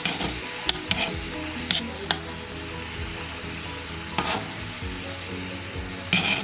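Large shrimp fry in a pan on medium heat and are flipped, giving a steady sizzle broken by several sharp clicks and scrapes of the utensil against the pan.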